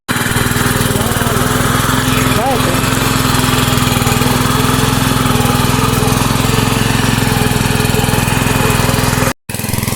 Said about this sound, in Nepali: हाम्रो चाहिँ बल्ल बल्ल ट्र्याक्टर स्टार्ट भएर दाजुले जोत्न सुरु गरिसक्नुभयो